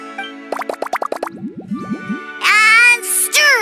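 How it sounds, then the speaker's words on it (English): Ingredients such as lizard tails, fish scales and slime drop into a drink in Genshin Impact with a run of quick, bright cartoon plops and boings, followed by a sustained sparkly magical swirl, loud and close. "I'm gonna add all the remaining ingredients."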